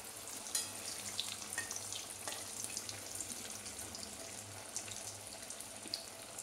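Loitta fish chops fry in oil over low heat, giving a steady, faint crackling sizzle that runs evenly throughout with no voices.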